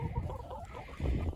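Backyard coop chickens clucking in short, close, overlapping bursts, with a louder flurry of clucks near the end.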